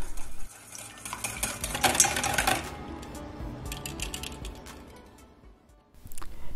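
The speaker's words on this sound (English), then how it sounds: "And then you mix your wet ingredients." Wet ingredients for banana bread, including cooking oil, being mixed in a bowl. A utensil clinks and scrapes against the bowl in a burst of quick strokes, then slows to a softer swirl before picking up again, close by with no voices.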